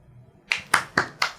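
Four sharp hand claps, evenly spaced about a quarter second apart, close and distinct after a quiet start, with no talking.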